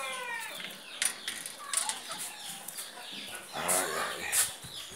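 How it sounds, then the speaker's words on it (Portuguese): A hen that is weak after a deworming treatment makes soft, intermittent clucks nearby, alongside high chirps from a chick and strong wind in the background. "Tem uma galinha aqui, rapaz."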